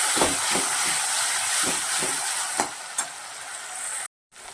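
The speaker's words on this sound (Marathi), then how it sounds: "टमाट्याची पेस्ट ह्या सारण तेलात तळून घ्यायची आहे" Close, bright sizzling of tomato paste frying in hot oil, with soft stirring scrapes, ending in a brief cutoff of silence.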